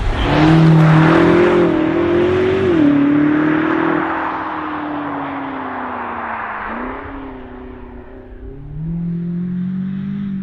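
A 2019 BMW M5 Competition F90 driving and accelerating on a cold, damp road, engine tone rising and falling through gear changes, loud at first then easing before building again.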